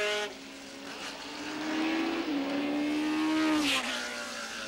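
Formula 3000 race cars in 1989 racing, an engine note rising and sliding in pitch as a car revs and spins, with a brief tire screech near the end.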